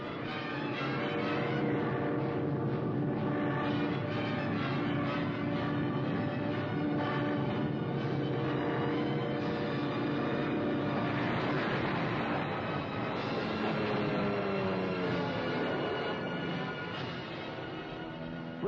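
WWII military aircraft engines drone steadily throughout, a loud continuous layered roar with shifting tones, heard on its own with no talk.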